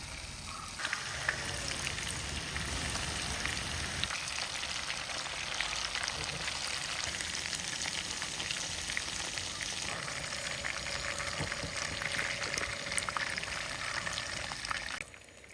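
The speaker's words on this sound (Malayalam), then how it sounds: "ഇനി നമുക്ക് ഓരോ ചിക്കൻ ഇട്ടിട്ട് ഒന്ന് ഷാലോ ഫ്രൈ ചെയ്തെടുക്കാം." Chicken pieces shallow frying in hot oil in a pan for restaurant-style chilli chicken, a steady, dense sizzle and crackle running the whole time without a break, close and fairly loud, with no talking over it.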